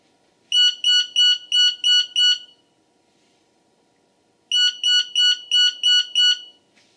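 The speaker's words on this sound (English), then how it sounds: "And the siren triggers, along with the alarm output." A 6th Sense International intruder alarm siren sounds in two bursts of six rapid, piercing electronic beeps, loud and close, separated by about two seconds of near silence.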